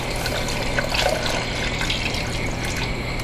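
Three cups of milk poured into cooked rice for creamy rice pudding, heard as a steady, close liquid splashing and gurgling stream that runs throughout without a break.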